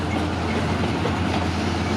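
A train passes close by, giving a loud, steady rumble with a rapid clickety-clack of wheels over rail joints that runs the full length without a break and without any voices.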